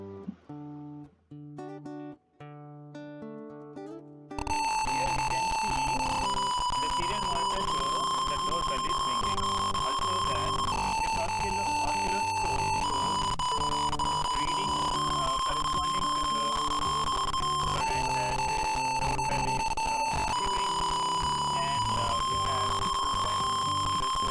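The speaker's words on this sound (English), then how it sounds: "now if we want to ring the doorbell" An electronic doorbell buzzer, triggered by a touchless hand sensor, plays a loud, repeating beeping melody that continues steadily, after a few quieter tones at the start.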